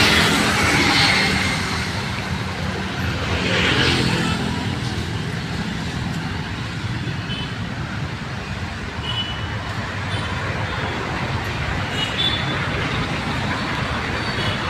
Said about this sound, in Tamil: இதுதான் பெங்களூர் டிராஃபிக்கு.